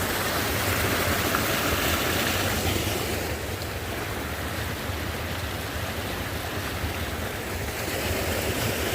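Stripe Creek in January rushes along in a steady, full, close roar of flowing water with no talk.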